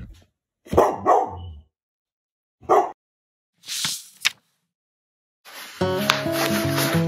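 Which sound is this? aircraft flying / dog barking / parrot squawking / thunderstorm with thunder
dog barking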